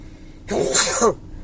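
One sharp sneeze bursts out inside a van, a brief, loud, close explosive breath that stands alone against the quiet hum of the vehicle.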